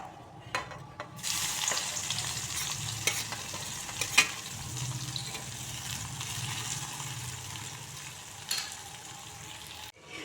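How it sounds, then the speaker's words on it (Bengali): Sliced onions sizzle in hot oil in a wok while a spatula stirs them, giving a steady frying crackle punctuated by sharp scraping clicks. "কড়াইতে আমি আর একটু সামান্য পরিমাণে তেল দিয়ে দিচ্ছি।"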